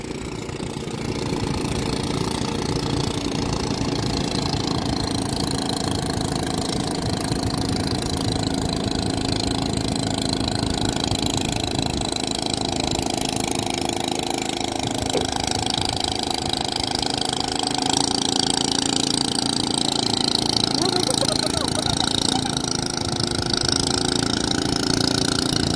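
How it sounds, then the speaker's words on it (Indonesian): Boat engines chugging steadily in the dawn near CPI Makassar, a continuous mid-pitched idle hum with a faint knocking texture, close and unbroken for the full length. "Perahu-perahu melintas."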